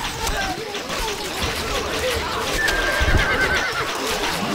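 Horse neighing over pounding gallop hooves in the medieval strategy game Stronghold Crusader, a clear whinny rising above continuous busy game noise with background babble.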